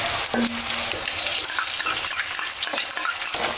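A Thai soup being stirred on the stove for iftar, with steady scraping and sizzling bubbling running continuously and fairly close, no voices.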